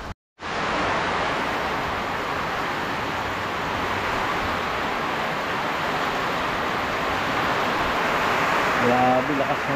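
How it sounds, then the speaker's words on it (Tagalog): Heavy typhoon rain pours down steadily around a barracks with a metal roof, a dense, continuous hiss that fills the whole stretch after a brief silent start, with a faint tonal sound near the end. "Grabe, lakas ng ulan."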